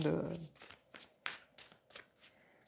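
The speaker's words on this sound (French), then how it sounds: "on va prendre une autre carte de ce jeu" Tarot cards being shuffled and drawn by hand, a string of quick papery riffles and flicks in irregular bursts, close and fairly soft, with someone talking briefly at the start.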